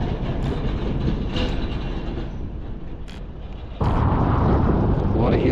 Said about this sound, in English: Oh, lorry moving near me, turn round.